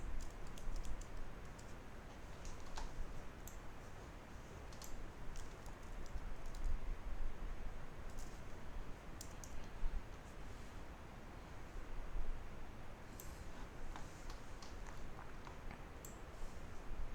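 Someone types a search on a computer keyboard. Faint, irregular clicks and taps are scattered over a quiet background hiss, with small bursts of keystrokes now and then.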